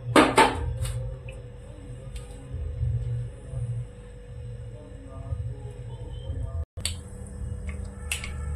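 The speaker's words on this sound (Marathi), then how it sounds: "आता मोहरी चांगली तडतडली आपली" Mustard seeds spluttering in hot oil in a kadhai: a burst of sharp crackling pops at the start, then sparse ticks and snaps over a low, steady rumble, with no talking.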